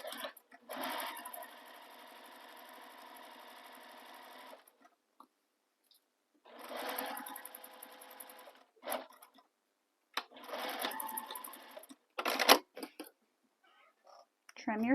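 A sewing machine backstitches along the edge of a crossbody bag in three long bursts of rapid needle stitching, separated by pauses and short clicks and handling noises, with brief talk between runs.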